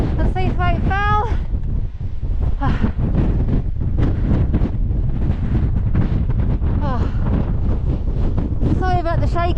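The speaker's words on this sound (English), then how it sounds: "it's so windy" Strong, gusty wind roars and buffets the microphone without a break on Great Slack, the summit of Seathwaite Fell in the Lake District. Brief excited voices call out at the start and again near the end.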